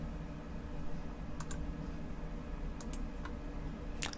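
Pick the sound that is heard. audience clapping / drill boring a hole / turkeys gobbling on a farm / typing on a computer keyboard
typing on a computer keyboard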